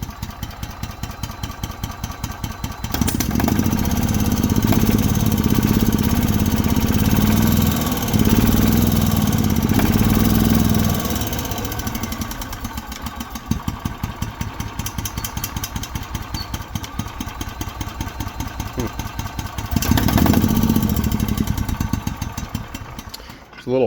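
A 2018 EZGO golf cart's small engine running after a carburetor replacement, with a steady rapid chug at idle that rises twice into louder revving stretches and then settles back.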